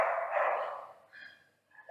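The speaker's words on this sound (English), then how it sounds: "Sorry, there's a dog." A dog barks faintly in the distance with a couple of muffled yaps, partly under a broad noisy wash, at low overall loudness.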